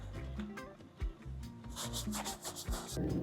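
A cloth soaked in rubbing alcohol rubs adhesive residue off an RV surface, giving short irregular scrubbing and scraping strokes close up, some sharper swipes mixed in, and no voices.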